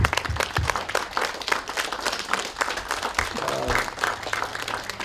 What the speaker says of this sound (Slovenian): Ali vas lahko prosim, da jim po tej poti vsi damo in velik aplavz?